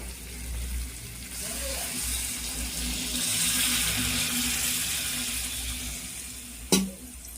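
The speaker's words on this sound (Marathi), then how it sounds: "आता यामध्ये पाणी सोडूया." Water goes into a hot pan of fish curry with garlic, masala and fish frying in oil. A sustained hiss and sizzle builds and holds steadily, followed by a short sharp clink near the end.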